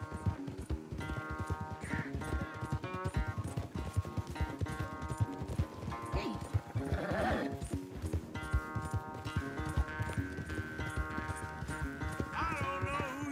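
Horses gallop in a race in the video game Red Dead Redemption 2, with rapid rhythmic hoofbeats continuing throughout under background music and an occasional whinny.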